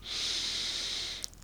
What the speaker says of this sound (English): Take another deep breath in